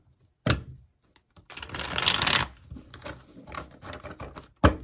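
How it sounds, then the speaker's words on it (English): A deck of oracle cards is shuffled at close range, with a sharp riffle and a sustained burst of crisp fluttering, followed by lighter card patter and a final snap. "One more shuffle, guys."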